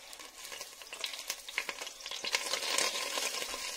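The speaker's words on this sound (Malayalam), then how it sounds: "ഈ പശുവിനെ ഞാനിവിടെ ആഡ് ചെയ്തിട്ടുണ്ട്. അതിലേക്ക് ഞാൻ ഈ ജീരാ റൈസ് ആഡ് ചെയ്യുകയാണ്." Jeera rice is stirred into hot cow ghee in a pressure cooker for veg biryani, giving a close, soft sizzle with scraping stirring strokes that grow slightly busier toward the end.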